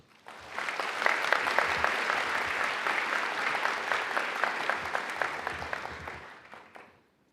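An audience at a medical school white coat ceremony breaks into sustained applause, rising quickly, holding steady for several seconds, then tapering off, with no talk over it.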